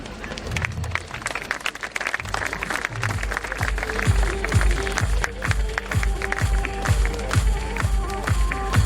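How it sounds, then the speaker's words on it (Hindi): A school annual day audience applauds an award-winning student, loud and sustained. The scattered clapping settles into a steady, rhythmic beat. "जोरदार तालियों से हमारे छात्रों का मनोबल बढ़ाएं"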